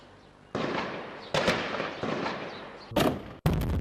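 Gunfire and blasts from a security forces encounter at a house in Kashmir: several sharp, loud bursts, each trailing into a sustained rumbling roar, with a final crack near the end, and no voices.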